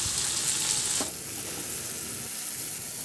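Bagoong shrimp paste sizzles in a hot pan, a steady frying hiss with a brief stirring scrape near the start, close and continuous, no talking.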